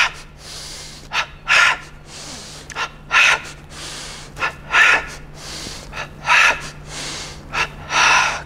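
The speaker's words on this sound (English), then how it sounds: "Double breathing, palms touching." Repeated forceful breaths drawn in and pushed out in quick pairs, about ten bursts over several seconds, close and loud with short pauses between them, from a double breathing exercise done with palms touching in a yoga energization routine.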